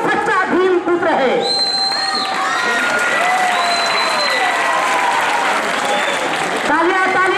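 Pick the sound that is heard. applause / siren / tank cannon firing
applause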